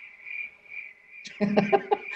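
A steady, high insect trill plays alone, then quick bursts of cricket chirps break in, close and clear, with no talking.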